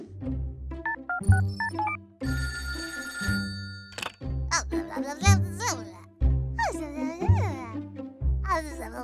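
A telephone in a children's cartoon rings in short repeated trills. Playful children's voices and babbling sound between and over the rings.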